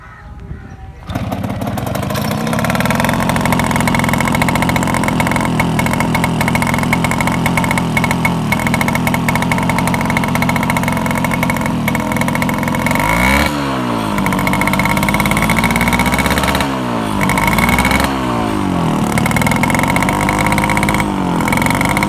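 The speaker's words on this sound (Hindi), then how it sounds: "अब चलते हैं इस बाइक के साउंड टेस्ट की तरफ।" A Yamaha YB 100 Delux motorcycle engine idles steadily up close, alone with no talk, a continuous loud putter with a few brief throttle blips near the end.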